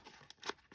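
Scissors snip through fabric during pocket trimming: a few quick, faint crisp cuts in a quiet room.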